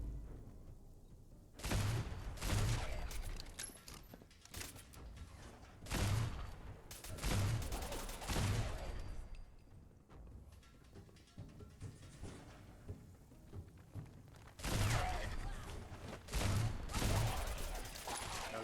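Bursts of gunfire from the video game Fallout 4, with several loud volleys of rapid shots in clusters separated by pauses, set over a constant game-ambience rumble.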